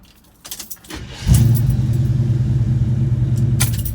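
A 1977 Chevy C10 squarebody with a 400 HP engine, warm and idling high, rumbling steadily and loud nearby after some faint clicks and handling noises, with no talk over it.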